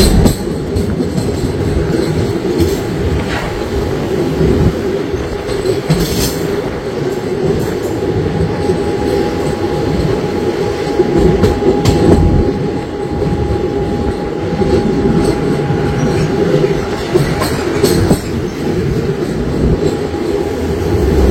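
The Haldibari Tri-Weekly Intercity SF Express from Kolkata to NJP rumbles steadily toward Malda Town, a loud continuous roar of wheels and carriage noise heard from on board, with faint squeals.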